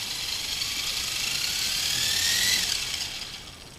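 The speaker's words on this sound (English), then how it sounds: "if I give any throttle command at all, it should start spooling up in the proper direction" A Blade 180CFX RC helicopter with an MSH uBrain controller spools up nearby, its rotor and gears giving a steady mechanical whir that climbs in pitch and then eases off.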